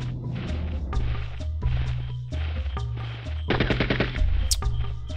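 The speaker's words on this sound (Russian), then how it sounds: "Постоянно причем стреляют и попадают." Enemy gunfire in Spec Ops: Stealth Patrol comes as rapid machine-gun bursts and repeated sharp gunshots, loud and close, in clustered volleys over a low droning backdrop.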